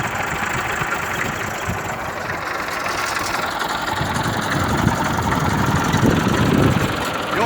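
A fully adjusted tractor used for ploughing runs its engine with a steady, loud, close rumble that rises slightly toward the end.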